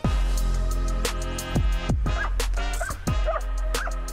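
Several loud, sharp barks and yips from a guard dog close by, with a few whimpery high-pitched cries in between, spaced irregularly across a few seconds, as someone moves to attack its trainer during protection training.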